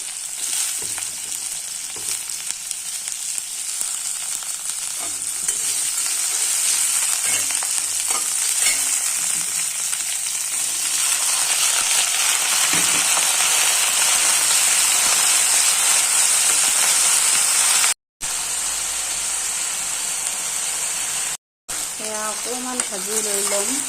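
Boiled peas fry in a pan while being stirred, a loud continuous hissing sizzle close by with occasional scraping stir sounds, briefly cut out twice near the end.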